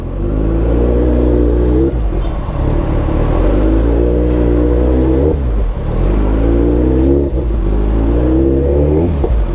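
Kawasaki ZX-14R motorcycle with a titanium exhaust revving steadily and loudly up close, a deep harmonic engine drone rising and falling through several throttle blips with no talk.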